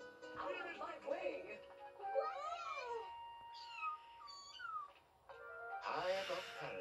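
A tiny cat sitting high above Paris in an animated children's story, giving several short, high meows separated by brief pauses, close and clear, with a voice speaking at the start and a final louder meow.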